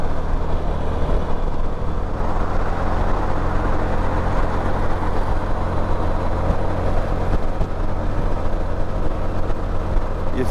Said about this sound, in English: You forget how these things rev going down the highway.